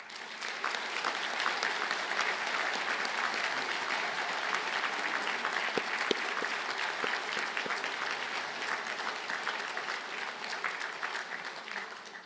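Graduates and guests at a university conferring ceremony in a large hall giving a sustained round of applause, a distant, even roar of many hands clapping that holds steady for the whole stretch.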